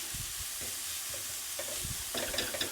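Spinach cooks down in a hot pan for a vegetarian burger, giving a steady close sizzle with intermittent scraping and stirring noises and a brief busier patch of crackle near the end.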